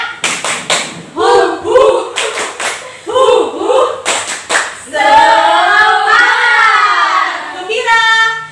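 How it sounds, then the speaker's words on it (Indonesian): Classroom of students doing a rhythmic spirit clap, several quick bursts of unison clapping in a patterned beat, followed by voices chanting together. "Tepuk semangat."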